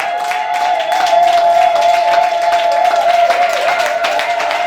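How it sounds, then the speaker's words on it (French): A church congregation applauds and cheers loudly during a worship service, a dense continuous wash of clapping and crowd acclamation with a sustained ringing tone running through it. "Donne gloire au Seigneur Jésus par des acclamations."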